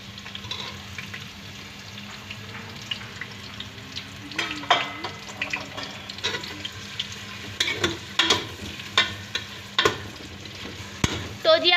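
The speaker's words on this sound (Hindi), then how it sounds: "अब आप लोगों ने प्याज को तब तक के मिक्स करते रहना है जब तक कि ये गोल्डन कलर में ना आ जाए" Onions frying with cumin and garam masala for a liver masala, a continuous sizzle under repeated spoon stirring and scraping that grows busier and more rhythmic toward the end.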